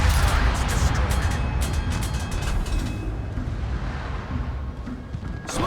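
Heavy naval gunfire from warship guns in the World of Warships game, opening with booming, rumbling salvos that fade into a continuous low roar, with sharper blasts returning at the end.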